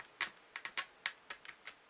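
Keys on a mechanical gaming keyboard clack in a quick, uneven run of about eight sharp, close taps over roughly two seconds, with no voices.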